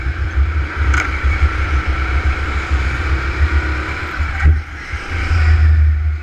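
A go-kart engine drones steadily as the kart drives laps on an outdoor track during a dodgeball race, a loud, continuous motor hum with small surges and a couple of sharp clicks.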